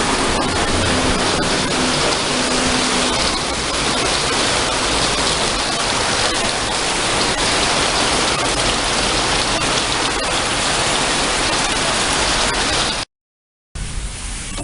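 Heavy rain pours steadily and loudly in Noi Bai Commune, Hanoi, Vietnam, a dense unbroken hiss that cuts out briefly near the end before resuming.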